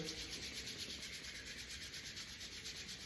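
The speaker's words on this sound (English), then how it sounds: "I like to start every practice just rubbing the palms and invigorating the nervous system" Palms of the hands rub steadily together in a quiet warm-up, a soft continuous close swishing friction with no talk.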